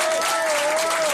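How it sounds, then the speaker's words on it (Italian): An audience at a small community fundraiser in Italy gives two young girls a brief, steady wash of applause, loud and continuous, with a faint sustained tone beneath it. "Volevo un applauso più convinto per queste due bambine"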